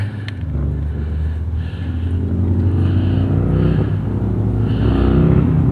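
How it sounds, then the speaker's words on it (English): A loud motorcycle engine drones and rises in pitch as it passes close by, with a steady low rumble throughout. "One of them loud motorcycles about to come by."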